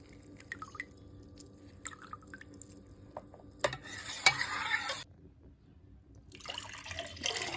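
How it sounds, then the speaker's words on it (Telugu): A spiced buttermilk mixture is strained and stirred, with light clinks and swishes of a spoon, then a burst of pouring liquid and later a second trickle, close and fairly quiet with pauses between. "ఇలా వడకట్టుకుని మజ్జిగలో ఇలా కలుపుకోవాలి."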